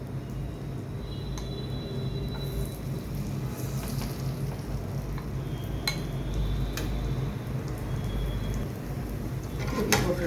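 Small chilla snacks fry in a lightly oiled pan, giving a steady soft sizzle throughout, with occasional faint clinks of a utensil against the pan and no talking.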